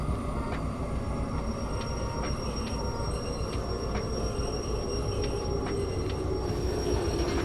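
Train rolling downhill in the Derail Valley railway game, a steady loud rumble of wheels on track with faint squealing and repeated light clicks of rail joints throughout, no voices.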